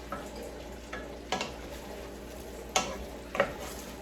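Brussels sprouts being tossed in a skillet over a low stove, giving a soft, steady sizzle broken by a few light scraping clatters of the food and pan, with no talking.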